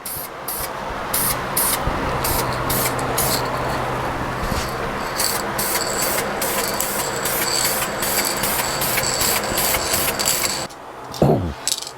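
A spray gun applies a lacquer coat to a Les Paul Custom guitar body, loud hissing bursts in quick repeated passes with brief gaps, ending with the spray stopping.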